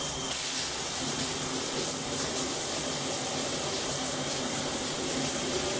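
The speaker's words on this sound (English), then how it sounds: "we'll open the shower faucet slowly" A shower faucet runs cold water in a building's plumbing, giving a steady, even hiss of flowing water that stays constant throughout with no talk.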